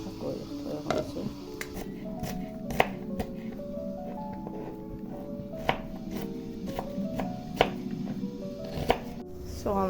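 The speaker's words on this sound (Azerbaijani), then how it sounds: "Soğanlarımızı doğradıq." Knife chopping onions on a board at close range, sharp irregular thuds repeating every second or so, while a voice talks and tonal music plays underneath.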